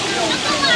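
River water flows and rushes in a brief, steady burst, close and loud.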